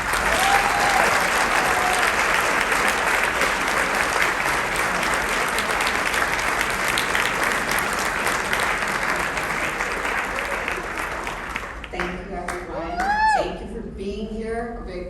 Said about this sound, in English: Round of applause for all of you for taking the time and the effort.